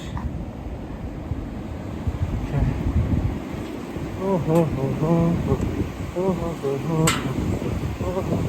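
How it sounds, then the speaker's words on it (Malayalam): Strong wind roars steadily across a high mountain trail on the Everest Base Camp trek near a hanging bridge, a dense, close rumble buffeting the microphone throughout, with faint voices briefly audible partway through. "നല്ല കാറ്റുണ്ട്."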